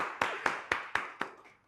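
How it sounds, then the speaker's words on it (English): Five faint, evenly spaced hand claps ring out one after another in a hall during a keynote speaking event, each followed by a short echo. "Can you please clap for him?"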